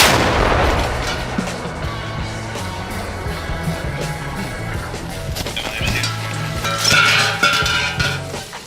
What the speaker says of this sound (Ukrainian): Нормально постріл!